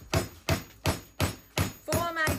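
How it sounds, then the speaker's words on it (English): A meatball hammered on a hard surface with a knife: about six sharp, evenly spaced thuds roughly a third of a second apart, close and loud, with a voice starting over the last strikes. "Here I am, trying to hammer out a meatball"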